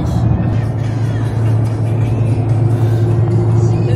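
A car cabin carries a steady low engine and road drone while driving through Tokyo, constant and fairly loud throughout.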